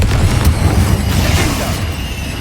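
A Confringo spell explosion in Hogwarts Legacy, a loud booming burst with a rumbling, fiery tail that fades out over a couple of seconds.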